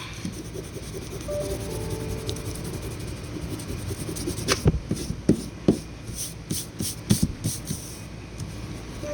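Faint pencil scratching on paper, sparse at first and then a run of short, quick strokes, over a low background hum.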